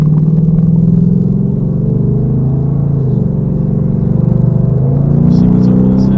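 Inside a nearly new, fully stock car with a 10R80 automatic transmission and 189 miles on it, a loud, steady low exhaust and engine drone fills the cabin while driving, with a brief swell partway through.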